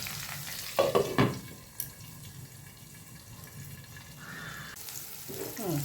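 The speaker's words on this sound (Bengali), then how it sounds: "পেঁয়াজ দিয়ে পেঁয়াজটা যতক্ষণ না নরম হবে ততক্ষণ একটু নাড়াচাড়া করতে থাকবো" Onions frying in a pan while being stirred, a low, even sizzle with a couple of louder clattering scrapes early on and a brief bright hiss toward the end.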